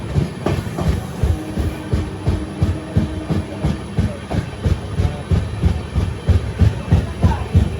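A Santragachi–Tirupati weekly superfast express runs nonstop, heard from inside a coach: a steady rolling rumble with regular rhythmic clickety-clack beats from the wheels over rail joints, continuous and fairly loud.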